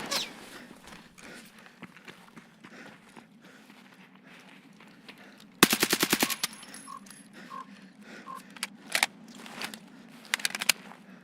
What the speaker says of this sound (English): I'm eating and getting shot at.